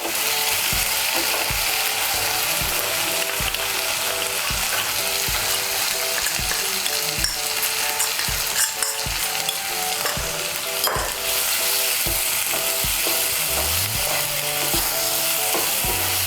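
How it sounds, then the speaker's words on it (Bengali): Paste of ground spices fries in oil while being stirred, a loud constant sizzle broken by repeated rhythmic scrapes of a spatula against the pan, close up and lasting throughout. "এখন আমি এর মধ্যে দিয়ে দেবো গুঁড়ো মশলা দিয়ে আমি যে পেস্টটা বানিয়ে নিয়েছি সেই পেস্টটা।"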